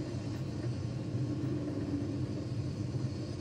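A SpaceX Falcon 9 rocket's engines thunder during supersonic ascent through max Q, a steady, dense low rumble with no breaks or voices.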